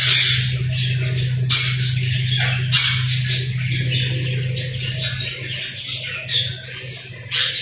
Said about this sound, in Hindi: आपने चिड़िया देखी है? ये कितनी प्यारी है ना।